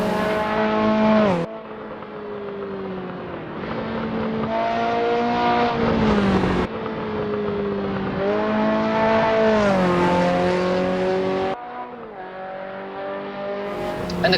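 Race car engine in a racing simulator game, revving up and down through repeated gear shifts with abrupt cuts between, a loud, continuous droning lap sound.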